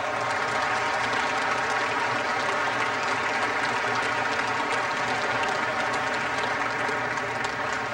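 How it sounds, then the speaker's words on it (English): Audience applause at a martial arts pressure point demonstration, a continuous dense wash of clapping that holds at an even level throughout without any voices. "Give him a round of applause."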